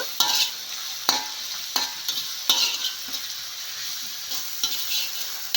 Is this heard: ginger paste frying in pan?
yes